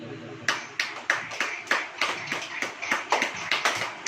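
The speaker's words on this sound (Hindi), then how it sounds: "ताली बजाइए।" A church congregation claps hands in unison, about a dozen sharp, evenly spaced claps in a steady rhythm, crisp and fairly close, with a little murmur beneath.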